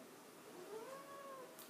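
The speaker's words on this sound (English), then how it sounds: "So there's my cat." A domestic cat meows once in a drawn-out, rising and falling call, faint and fairly close in a quiet indoor room, with no talking over it.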